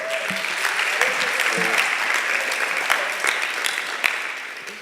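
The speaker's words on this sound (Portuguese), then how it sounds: "Um salve de palmas para o José." Audience applause fills a church gathering, a steady dense clapping wash sustained throughout, with a few brief voices and cheers cutting through near the start.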